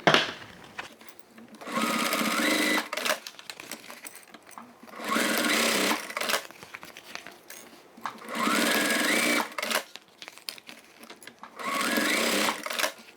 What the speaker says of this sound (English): now I'm going to sew all of the four corners on the main